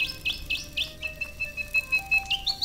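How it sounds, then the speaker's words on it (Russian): A mechanical bird in the horror game Ad Infinitum chirps in quick repeated bursts of bright, whistling tweets, loud and close, with no one talking over it. "Механическая птичка."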